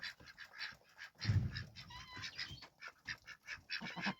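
Several ducks, four drakes and one hen, quack in a busy overlapping chorus, nasal calls repeating throughout, with one louder, lower honk-like call near the middle.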